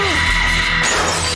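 Glass shatters loudly in the horror movie Halloween: Resurrection. A sustained, high scream-like tone gives way to a sudden bright crash of breaking glass that rings and tinkles for about half a second.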